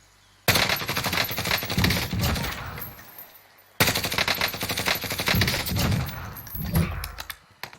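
Grau 5.56 rifle fire in the video game Warzone comes as two long rapid automatic bursts, loud and close, with a short gap between them and a few trailing shots at the end.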